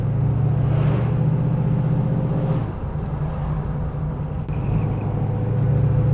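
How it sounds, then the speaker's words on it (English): Built 351 V8 in a 1969 Ford Mustang Mach 1 revving up and holding, a loud steady rumble that rises, dips briefly and climbs again, close by with no talk. "I've just built the RPMs up a little bit gradually, and there is no hesitation anywhere throughout the range here."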